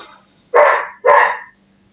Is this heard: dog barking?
yes